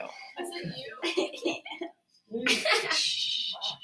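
A sharp sneeze bursts out amid talk, followed by a short pause and then people speaking again.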